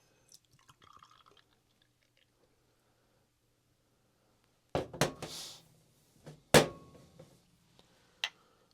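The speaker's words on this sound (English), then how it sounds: "let's open up the beer can that was mashed and see how it compares" A mashed, heated can of beer is cracked open with a sharp pop and hiss, followed by a fizzing rush and further metallic clicks, after quiet handling sounds.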